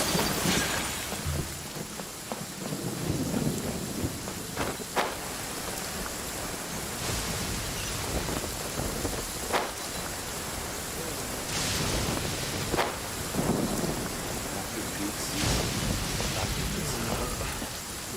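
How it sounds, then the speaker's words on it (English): Steady rain hisses in the Genshin Impact game world while rolling thunder rumbles up several times at intervals, with no voices. "Let us find shelter from the rain."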